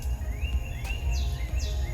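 A living-forest ambient preset plays through the speakers of a Hyundai Ioniq car: a few rising bird chirps and insect-like trills sit over a steady low hum, with no voices.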